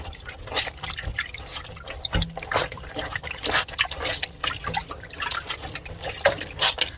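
Hands knead and squeeze a cotton pouch of malt in a basin holding 2.4 liters of water, making irregular wet squishes, drips and splashes close by.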